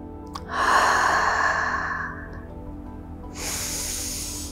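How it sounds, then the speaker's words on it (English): A deep, audible exhale during a seated yoga twist, a long breathy rush of air close to the microphone that fades out, followed by another steady breath a moment later, with no speech. "You'll take a full breath in here. And then exhale"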